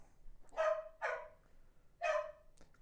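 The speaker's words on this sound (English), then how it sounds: "Before your ears are bleeding from his piercing bark." A dog's sharp, piercing barks in the Final Fantasy 16 game, three loud separate yelps spaced about a second apart, heard alone over a faint low background.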